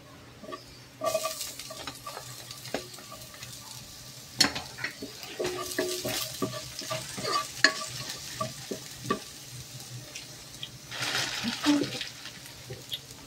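Cabbage and shrimp sautéing in a pan for ginisang repolyo, soft sizzling under repeated stirring scrapes and clinks of a utensil against the pan, close and busy, with people talking intermittently.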